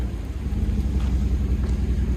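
A GMC Sierra with a 5.3L V8 and aftermarket muffler idles close by, a deep steady rumble with a faint pulsing beat and light wind buffeting the microphone.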